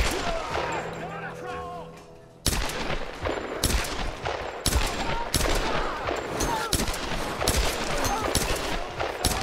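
Gunfire in Tomb Raider 2013: after a quieter start with ambient game sound, rapid bursts of loud sharp shots crack repeatedly in quick succession, close and dense, with a voice speaking in places.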